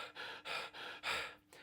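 A short, sharp, shallow breath drawn through the mouth, repeated as quick close gasps in a quiet room with no talking.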